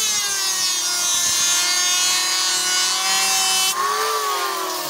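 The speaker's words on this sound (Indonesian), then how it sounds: "Dan ini kita akan lanjut pasah" Wood hand-planed for a bird cage, a loud continuous rasping scrape with a steady whining tone that runs for several seconds and shifts slightly near the end.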